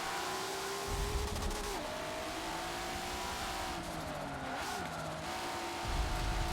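Racing car in Forza 7, an RX7 or R33, with a steady engine drone that rises and falls through shifts and corners, a tire squeal mid-run, and a throttle blip near the end.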